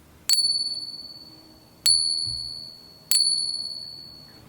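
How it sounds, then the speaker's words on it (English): Two pure 999 fine silver rounds are tapped together three times, each strike giving a bright, high, bell-like ring that decays slowly, clear and close with nothing else heard. "Alright, that was two pure silver rounds. That's 999 fine silver."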